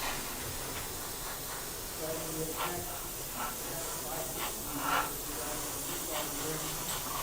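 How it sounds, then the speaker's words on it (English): An airbrush lays a misted coat of paint on a scale model, giving a soft continuous hiss with short bursts of spray rising and falling, while a voice talks intermittently over it. "get my feel for my airbrush"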